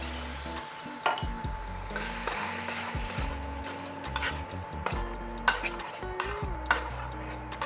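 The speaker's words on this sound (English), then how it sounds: "Maximum heat, turning it back on, adding in the sweet and sour sauce, as well as just a touch of the slurry." Sweet and sour sauce and a little slurry hitting a pan on maximum heat: continuous close sizzling with repeated utensil clacks and scrapes against the pan, no talking.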